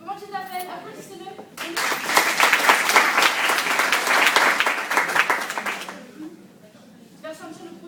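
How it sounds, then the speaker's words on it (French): An audience at a public wrap party in Montpellier bursts into applause for several seconds, dense and close, with someone speaking briefly before and after. "Applaudissez-le."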